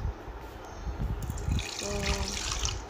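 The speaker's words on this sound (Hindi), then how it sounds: "मैंने हाफ कप जो है पानी इसमें ऐड करने लगी हूँ।" Half a cup of water poured into a blender jar while making a watermelon shake, a close, steady liquid trickle and splash that runs through the whole moment.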